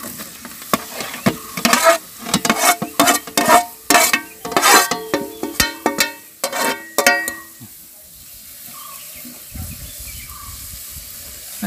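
Free-range village chicken sautéed in a spiced tempering in a pot over a wood-fired clay stove: loud, rhythmic clattering strokes of stirring for several seconds, then a quieter sizzle and hiss once the stirring stops.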